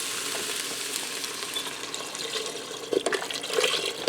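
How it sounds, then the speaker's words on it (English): Beef broth poured into a pressure cooker pot over sautéing pepper and onion, a steady liquid rush and splash with a few louder sloshes near the end, close and with no talk. "I'm going to add in 4 cups of beef broth"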